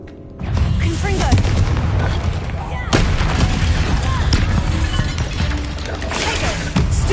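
Spell combat in the PS5 video game Hogwarts Legacy, dense loud blasts and booming impacts crashing over each other continuously, with a sharp explosive burst midway and rumbling effects in between.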